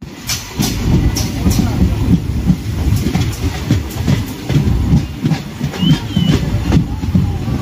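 Passenger train rolling on the rails near Rejinagar in Murshidabad, a steady loud rumble with regular clickety-clack wheel beats throughout, with some voices in the background.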